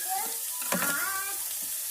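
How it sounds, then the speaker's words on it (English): Ground meat and onions frying in a pan for homemade chili, a brief close sizzle with a quick stir scrape in the middle. "we're going to cook this ground meat with the onions"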